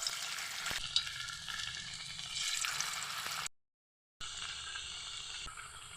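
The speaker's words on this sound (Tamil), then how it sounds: "கடாயில் எண்ணெய் ஊற்றிருக்கேன். எண்ணெய் சூடானதும் இப்போ வடையை போட்டு எடுத்துடலாம்." Tapioca vadai sizzle and crackle in hot oil in a kadai, a steady close-up frying hiss broken once by a brief moment of silence before the bubbling resumes.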